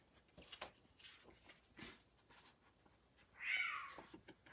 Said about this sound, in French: Pauvre chat.